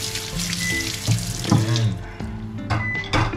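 Dishes being washed under a running kitchen tap, with steady close water flow, clinks of crockery and pans, and a brief word spoken over it.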